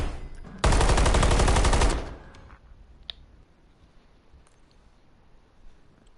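Semi-automatic gunfire in the video game Warzone: a loud, dense burst of rapid shots lasting just over a second, then one faint click and low background ambience.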